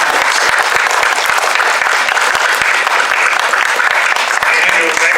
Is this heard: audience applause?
yes